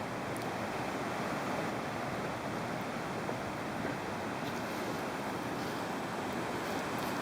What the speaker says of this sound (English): This is Athabasca waterfall in winter.